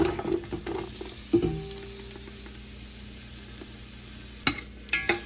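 Onions going into hot oil in a pot for tomato bisque soup, a soft steady sizzle with clinking utensil knocks at the start and a few louder clatters near the end.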